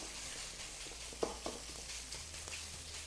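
Beef pieces sizzling in a very hot, smoking wok for a black pepper stir fry with cornflour, a quiet steady frying hiss with a couple of soft clinks, no talking.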